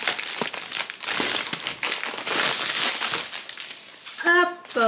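Paper crinkles and rustles repeatedly while a diamond painting kit is unboxed, close and fairly loud in irregular bursts, with a short tonal scrape near the end.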